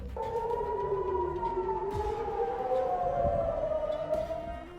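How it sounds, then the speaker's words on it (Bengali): Air raid warning sirens wail across western Israel near Beersheba and Dimona, a distant rising and falling tone that carries steadily over faint background noise. "দেশটির পশ্চিমাঞ্চলে বীরশেবা, দিমনা এবং আশেপাশের শহরগুলোতে সতর্কতা সাইরেন বাজানো হয়েছে"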